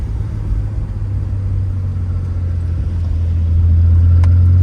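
A Nissan 300ZX Twin Turbo drives along with a steady low engine drone inside the cabin, the rumble swelling a little louder toward the end as it pulls harder.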